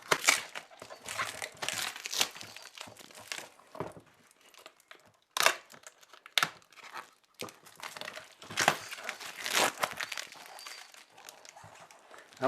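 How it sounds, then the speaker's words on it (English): Tape is peeled off and folded Lucioli bicycle inner tubes are unwrapped from their plastic packaging, giving close, irregular crinkling, rustling and tearing bursts of varying loudness with brief quiet gaps between them. "I'm just going to carefully just take this tape off and unwrap them"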